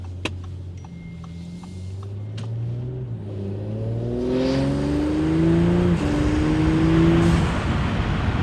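An Audi S4 B9 turbo engine with an aftermarket intake revs up repeatedly, pitch climbing in several rising sweeps, growing louder as it goes, heard close from inside the car.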